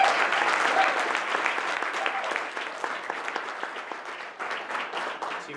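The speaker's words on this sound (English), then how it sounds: "round of applause." An audience at a student presentations and awards event applauds a student team in a sustained, steady round of clapping, with a few voices and cheers mixed in.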